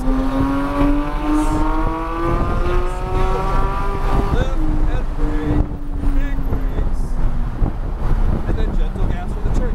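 Porsche sports car engine revving and accelerating hard around Atlanta Motor Speedway, a steady loud drone with rising harmonic pitch, gusty wind buffeting and a driving instructor talking throughout.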